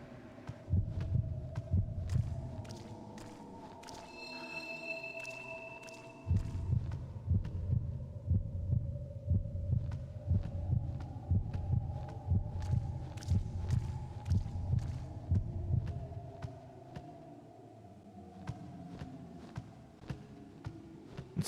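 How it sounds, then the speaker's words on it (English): Heartbeat effect in the horror game Kuon, a steady low double-thump pulse repeating under a humming ambience, pausing briefly before resuming at an even rhythm. "It's doing the heartbeat thing"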